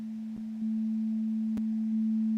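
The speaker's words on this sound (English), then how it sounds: "So sine waves are nice." A pure 220 Hz sine wave from a web audio synthesizer holds as a steady, smooth, unwavering tone, clean and fairly quiet, with a few faint clicks and no voices.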